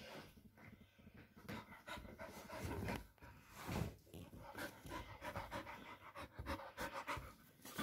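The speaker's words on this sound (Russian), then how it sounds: "Дышит." A dog pants heavily and quickly right up close, its rapid breaths running in a steady rhythm with no talking.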